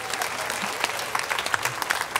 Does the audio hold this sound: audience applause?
yes